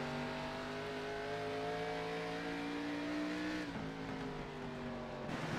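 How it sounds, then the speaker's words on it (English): A race car in a sim racing game at Lucas Oil Raceway holds a steady, loud engine tone, then the pitch drops sharply as it brakes into a corner, with a gritty tire and engine roar afterward. "You can hear that brake entry."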